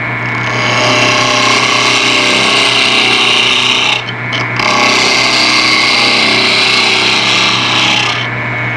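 A woodturning tool cuts into a spinning workpiece on a lathe that is not yet round, giving a loud, continuous rasping scrape over a steady hum, with one brief break partway through.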